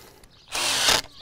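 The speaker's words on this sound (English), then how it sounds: "You can just drive a screw with a six-sided head, hex head here." A drill whines briefly for about half a second as it drives a hex-head structural screw into shed framing lumber, close and loud, with quiet gaps on either side.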